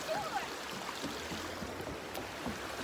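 Creek water flowing outdoors, a steady close rushing and gurgling wash with no pauses.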